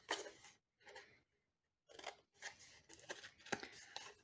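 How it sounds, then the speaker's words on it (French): Scissors snipping through the cardboard of a Ferrero chocolate box, with several close, crisp cuts in uneven bursts separated by a short silent gap. "on va maintenant utiliser un ciseau pour couper tout ça"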